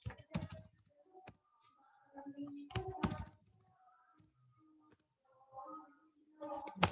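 Someone types on a computer keyboard while entering data into a travel rental application. Several short runs of crisp keystrokes are broken by quiet pauses, with a faint voice in the background.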